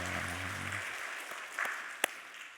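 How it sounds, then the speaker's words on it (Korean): A Sunday church congregation claps after a sustained musical tone ends. The applause thins out into a few scattered, distinct claps near the close. "박수."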